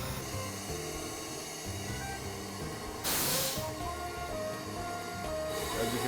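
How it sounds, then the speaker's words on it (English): Steam bursts in a loud, broad hiss from a hat blocking machine as felt is stretched over a form, starting abruptly partway through over a steady background of music and machine hum. "the steam allows the felt to stretch and to mold like putty"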